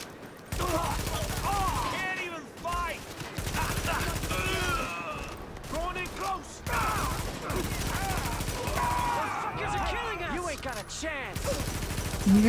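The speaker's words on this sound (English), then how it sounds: "You guys are shooting at me." Sustained bursts of gunfire in the video game The Division 2. Shots crackle through loud, dense combat noise across the whole stretch, with brief gaps and voices mixed in underneath.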